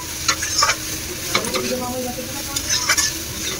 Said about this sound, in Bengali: আর এবার একটু মিক্স করে নিয়ে নাড়িয়ে চাড়িয়ে নিয়ে তারপর ঢেকে দেবো